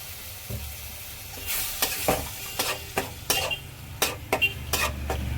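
A little water goes into a hot pan of Kashmiri chilli and spice masala, which sputters and sizzles while a spatula scrapes and clinks against the pan in quick, irregular strokes, close up with no talk.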